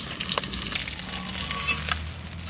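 Ground paste of cumin, coriander, black pepper, green and dried chillies and ginger dropped into hot mustard oil in a kadai, producing a close, continuous sizzle with small crackles and spatters.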